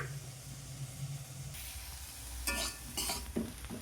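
Peas and potatoes frying in a pan for a stuffed puri filling, a soft sizzle under repeated scraping stirs with a spoon, with bursts of louder hissing and clatter toward the end, no talking.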